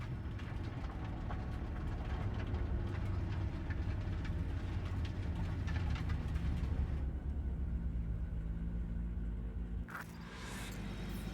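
Train rolling through Cyberpunk 2077, a steady loud low rumble and clatter that runs continuously, easing off briefly near the end before a short bright burst.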